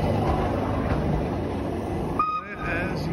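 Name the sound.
train arriving at station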